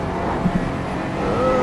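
An Aston Martin GT4 race car in iRacing's Nürburgring 24 Hour race drones past with a steady engine note that swells slightly toward the end, with no talk.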